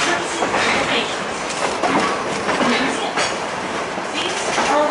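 Museum train ride behind a Katy SW8 diesel switcher at the Oklahoma Railroad Museum: steady loud rolling rumble and rail clatter fills the whole stretch, with faint voices underneath.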